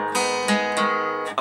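Sustained electric guitar notes ring out as a song intro is picked with hammer-ons, several plucked attacks blending into a smooth, close, steady tone without talk.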